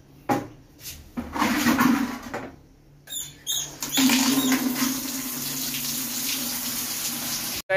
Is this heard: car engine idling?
no